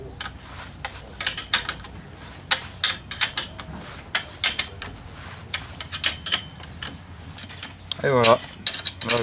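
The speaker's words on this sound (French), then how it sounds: "là je serre, pas trop pour pas déformer le tuyau" Nuts being tightened with a ratcheting wrench onto non-stop fittings on a greenhouse pipe frame, giving repeated close metallic clicks and ratchet bursts in irregular runs, with a brief vocal sound near the end.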